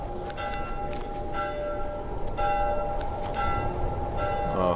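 Church bells ring in The Last of Us Remastered, a series of clear metallic strikes with long humming overtones sounding at a moderate distance over a low ambient background, with no voices.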